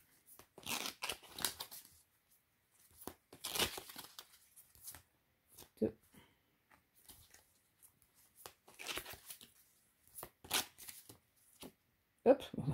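Tarot cards being shuffled in bursts of quick riffling and sliding, close and crisp, with quiet gaps between rounds and a person talking softly at times.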